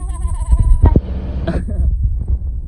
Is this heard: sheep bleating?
yes